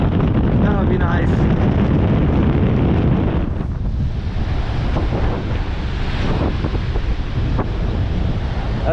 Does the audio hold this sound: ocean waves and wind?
yes